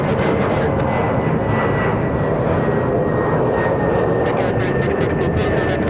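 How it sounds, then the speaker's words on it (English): A United Express Mesa regional jet takes off at Raleigh-Durham toward Washington Dulles, its engines a steady, loud broadband roar with a faint whine held throughout. "Going to be a nice early rotation there for the United Express Mesa back to Washington Dulles."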